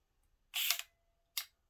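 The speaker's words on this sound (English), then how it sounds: "this Ansco. This is old. This is old. But listen to the shutter on this." An old Ansco rangefinder film camera fires its shutter twice, close and crisp: a longer mechanical snap followed by a short, sharp click, with silence around them.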